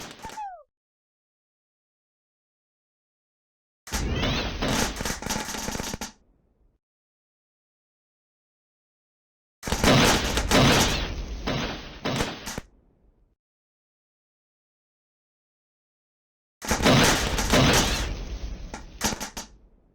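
Gasoline explosions in the video game Hotcorn go off as three loud, roughly two-second bursts, each separated by several seconds of complete silence.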